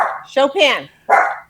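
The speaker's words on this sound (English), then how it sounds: "dog is barking" A dog barks at close range: two loud, sharp barks separated by a short pause, with speech heard alongside.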